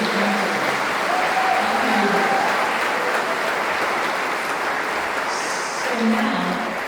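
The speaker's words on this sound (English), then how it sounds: "Give her a round of applause." An audience applauds at a concert evening, a continuous wash of clapping that holds steady and full for the whole stretch, with faint voices murmuring beneath.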